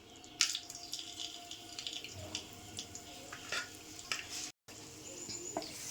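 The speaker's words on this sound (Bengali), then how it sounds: "তেলটাকে গরম হোক, দেব এলাচ, লবঙ্গ, দারচিনি।" Whole cardamom, clove and cinnamon sizzle in hot oil left over from frying potatoes, a steady close crackle with scattered pops and the occasional stir of a utensil, no voices.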